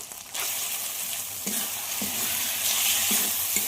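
Chicken pieces dropped into a cooked-down spice masala, setting off a loud sudden sizzle that stays steady and strong, with a few stirring knocks against the pan and no speech.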